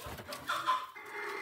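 A chicken clucks close by on a farm, a few short soft clucks over about a second and a half.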